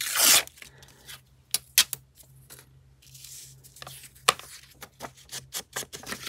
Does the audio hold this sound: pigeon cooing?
no